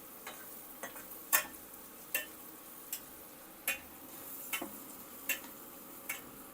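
Farm chicken pieces browning in a pan, stirred with a spatula: about a dozen sharp scraping clicks in an uneven rhythm over a soft, continuous frying hiss, close by and without voices.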